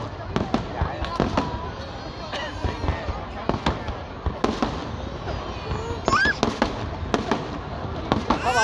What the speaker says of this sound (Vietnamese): Pháo bông, pháo bông, pháo bông,